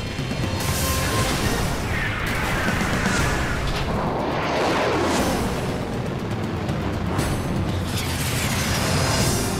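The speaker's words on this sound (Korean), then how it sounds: "적 항공기가 수십 발의 미사일을 발사했습니다. 요격 미사일 발사! 발사!" Animated launch of interceptor missiles from an Aegis destroyer, heard as sustained loud roaring whooshes and rumbling blasts layered over one another, with no voices.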